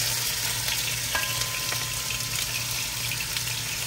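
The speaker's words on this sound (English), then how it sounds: "So I've got my ground up peppers and onions and a little bit of celery. I'm gonna go ahead and saute all that on up." Ground peppers, onions and a little celery sauté in a pan with a steady, close sizzle and crackle, a few faint tool scrapes and clicks over the dense hiss, no talking.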